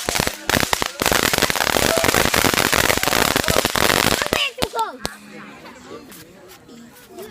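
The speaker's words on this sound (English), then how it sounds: "That's all the fireworks." A dense, loud run of firecrackers and fireworks crackles and pops for several seconds, then thins to scattered bangs as people talk nearby.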